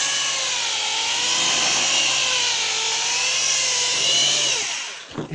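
A variable-speed electric drill polishes with polishing paste at slow speed, giving a loud, close, continuous whirring rub with a wavering tone that holds for several seconds before winding down and stopping.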